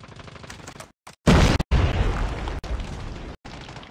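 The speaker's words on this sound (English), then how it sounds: "Grenade!" A grenade explodes in the Call of Duty: Mobile multiplayer game, a sudden loud close blast followed by a rumbling, debris-filled roar with gunfire mixed in.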